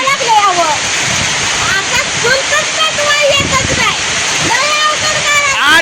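Heavy monsoon rain pours down in a loud, steady hiss around an outdoor home cooking area, with a person talking over it throughout.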